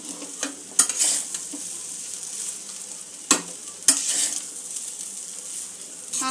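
A large batch of Bengali-style veg pulao rice, enough for two or three people, is stirred slowly in a pan over low heat, with soft scraping strokes and a few sharper clinks of the spoon against the metal.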